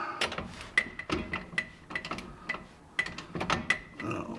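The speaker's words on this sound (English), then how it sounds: "I think I'm going to use a torque wrench." A torque wrench ratchets while a track bar is removed from a vehicle, sounding as a series of quick metallic clicking bursts in an uneven rhythm, close and fairly quiet, with no talking.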